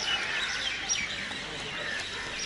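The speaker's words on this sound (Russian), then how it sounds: "Птички так кричат." Birds chirp and call continuously outdoors on the grounds of an ashram in India during the evening, a busy chorus of small high tweets, with faint voices nearby.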